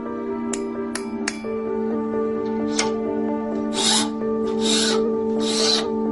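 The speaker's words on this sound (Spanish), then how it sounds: "la cortaban con un cincel." A chisel cuts through a prepared metal sheet, starting with a few sharp metallic strikes and moving into repeated scraping rasps over steady ringing tones, close and fairly loud with no talking.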